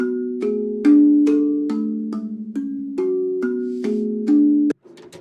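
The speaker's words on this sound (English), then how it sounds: "I've used the tongue drum in it." Tongue drum from the Museo plugin playing an arpeggiated melody, a steady run of about a dozen clear, evenly spaced struck tones with ringing sustain, stopping abruptly near the end.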